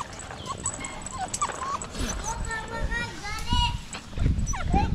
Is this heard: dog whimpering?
yes